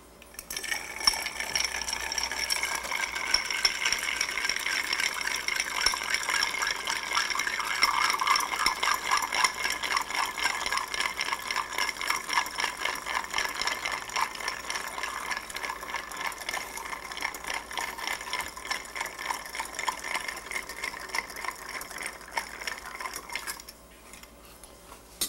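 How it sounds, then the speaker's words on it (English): Ice rattles and clinks steadily in a mixing glass as a cubed Old Fashioned with flavored simple syrup is stirred, a continuous close-up jingle with no talk over it. "And we'll add some ice and stir away"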